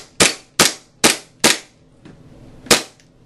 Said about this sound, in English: put it forward, safe direction, and you're going to fire the shots